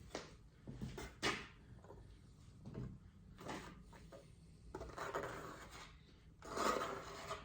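A trowel scrapes and spreads epoxy across a workbench top in close, irregular rasping strokes of varying length, separated by brief quiet pauses and faint handling noises.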